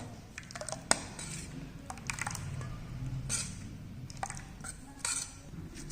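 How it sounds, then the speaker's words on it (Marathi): Wheat flour batter mixture being stirred in a bowl for a breakfast dish, with soft scraping and several sharp utensil clinks against the bowl over a quiet background, no speech. "तर सर्व छान असं हलवून घेणार आहोत आपण हे मिश्रण"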